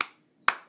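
A parent claps hands softly near a baby, two single light claps separated by a short pause, close and clear in a quiet room.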